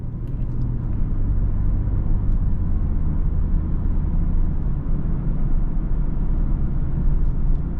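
A BMW 440i convertible is driven at high speed on the German Autobahn, with a loud, constant in-cabin roar of engine, tyres and wind rumbling without pause.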